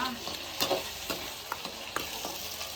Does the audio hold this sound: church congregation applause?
no